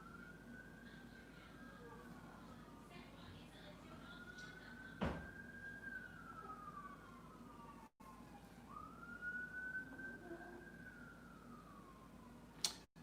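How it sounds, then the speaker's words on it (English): Emergency vehicle sirens wail outside a home near hospitals, two long rising-and-falling sweeps, muffled and distant over a steady low room hum, with a sharp click partway through. "We live not too far from a couple of hospitals, so there's a constant sound of sirens outside"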